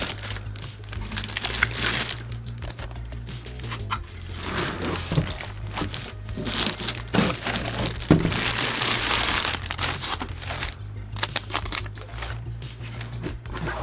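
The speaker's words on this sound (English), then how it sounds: "So let's get this out of the plastic." Plastic packaging crinkles and crumples steadily as a heavy-duty MAXSafes vein recognition safe is unwrapped, the rustling continuous and close for the whole stretch with no talk.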